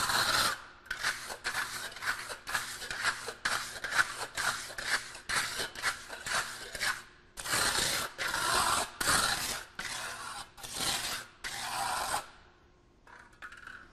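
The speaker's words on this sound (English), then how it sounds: "You can also use then a steel trowel to get a little better finish." A steel trowel scrapes across fresh concrete in a test-beam mold in repeated close, gritty strokes with a steady rhythm, then falls quiet near the end.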